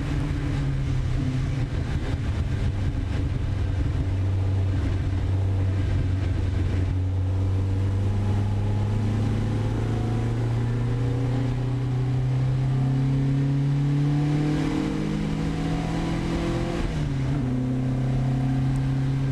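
Classic Marcos racing car driving fast down the straight at Silverstone in damp conditions, a loud continuous engine drone with the pitch rising steadily through the gears, heard from onboard.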